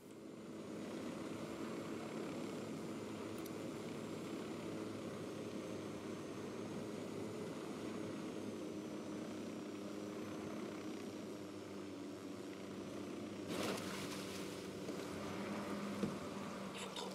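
A drone takes off in the video game Ghost Recon Wildlands, giving a steady whirring rotor hum that holds at an even level throughout, with a brief louder burst near the end.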